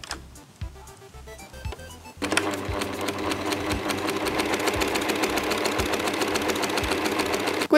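A sewing machine stitches along a pinned line on clothing being altered, starting with a few short bursts and then running steadily and loudly with a fast, even mechanical rattle.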